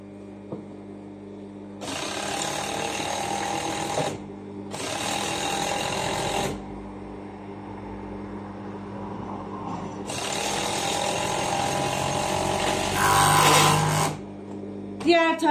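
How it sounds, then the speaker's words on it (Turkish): An overlock sewing machine stitches a trouser side seam with a 1 cm seam allowance, its steady high whir sounding loud and close in three long bursts separated by brief pauses. "1 santimden overlock'ta dikiyorum gördüğünüz gibi."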